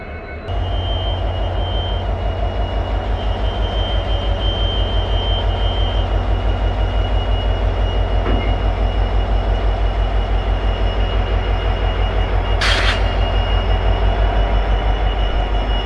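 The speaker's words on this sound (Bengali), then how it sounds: "হয়ে গেল কাপলিং।" A diesel intercity train idles with a deep, pulsing engine throb while carriages are coupled, and one sharp metallic clank rings out near the end. The sound is loud and close, with no voices.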